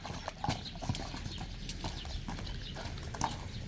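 A three-to-four-year-old horse, about 1.60 m tall, walking on hard ground, its hooves clip-clopping in a steady, close rhythm over a low outdoor background hum, with no voices.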